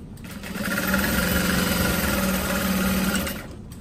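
A sewing machine stitches a pocket into the lining of a barrel bag, giving one steady, close mechanical whir of a few seconds that starts and stops cleanly.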